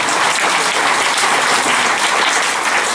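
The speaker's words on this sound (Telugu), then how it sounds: "ఒక్కసారి గట్టిగా క్లాప్స్ కొడదాం మాకు." Audience applause for a team of blind teachers at a motivational programme, steady sustained clapping from a crowd throughout, fairly loud and with no talk over it.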